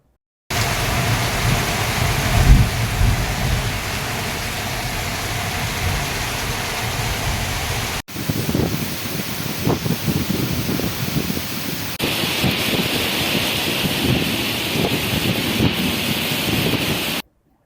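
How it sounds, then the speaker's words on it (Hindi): Heavy monsoon rain driven by strong winds in the Palitana area of Bhavnagar, Gujarat, a continuous dense roar of downpour and gusts that changes character across several cuts with no voices. "तेज हवाओं के साथ धुआंधार बरसात दर्ज की गई।"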